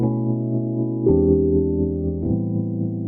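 Three sustained piano chords in succession, a 7-3-6 chord progression, each struck cleanly and left ringing, played close up without any voices.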